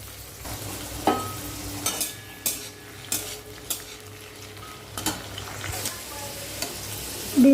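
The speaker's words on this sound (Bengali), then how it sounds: "বিম কড়াইটা ভেজে নেব।" Green beans frying in a kadai for a Bengali vegetable khichuri, with a spoon repeatedly scraping and stirring through a steady sizzle; close, with regular clinks of the utensil against the pan.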